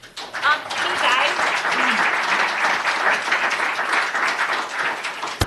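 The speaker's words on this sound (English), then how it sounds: "So if you could refrain from the applause, just because we have to regroup every time afterwards." A room full of people at a city planning commission meeting breaks into sustained applause, dense and even for several seconds before cutting off abruptly.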